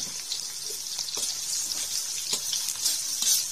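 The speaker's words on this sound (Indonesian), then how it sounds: "Tumis pelan-pelan aja seperti ini." Dried shrimp (rebon) sautéing in a pan, a soft continuous sizzle with light scraping stirs scattered through it; close and fairly quiet, no talking.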